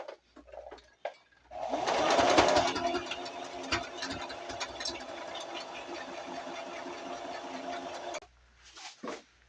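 A sewing machine runs in a steady continuous burst of stitching through a homemade rice-filled fabric ice pack, starting after a few quiet handling noises and stopping abruptly near the end, followed by faint rustling.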